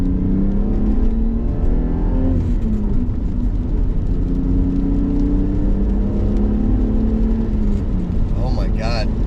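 A BMW E34 with a 3.7L stroker M30 engine running on a standalone ECU revs loudly up and down at close range, its tone swelling and falling in repeated waves.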